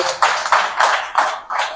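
Applause from an audience for the president at an opposition gathering, short, with five distinct bursts of claps in quick rhythm, fairly close and moderately loud.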